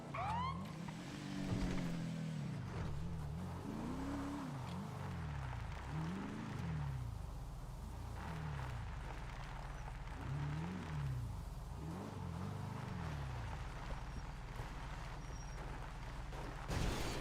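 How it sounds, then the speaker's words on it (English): A car drives past outdoors, its engine rising and falling in a series of passes with tire and road noise, fairly close and steady, with no talking over it. "Oh, the car."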